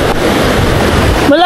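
Muddy river water flowing down from Mount Banahaw makes a continuous, loud rush of churning water close by, with wind buffeting the microphone and a voice starting to speak at the very end.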